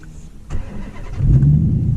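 A manual Dodge Challenger's engine rises from a low idle into a louder, steady rev as the clutch is let out, with the rumble swelling over the final second.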